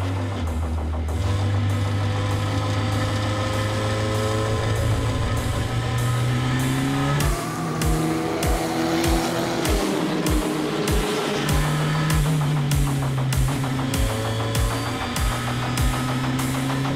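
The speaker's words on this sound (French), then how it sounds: "On est parti avec Despielo qui arrive au virage du raccordement" Race cars lapping the circuit at the GP Explorer event, engines droning loud and steady with rising and falling pitch as they shift and pass, plus a rapid pulsing rhythm midway, close and continuous with no voices.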